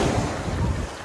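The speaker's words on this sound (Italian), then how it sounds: "Ci sono le onde." Surf washes against the beach at Phuket, a close, steady rush of water with heavy wind noise over the microphone, lasting about a second with no speech.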